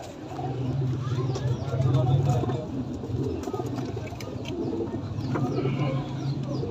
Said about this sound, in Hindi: मेरे पास आए हैं कबूतर, मुझे खुद बड़े पसंद आए हैं, अच्छे कबूतर हैं।